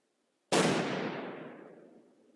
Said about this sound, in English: Finally, police resorted to throwing a grenade towards the bunker.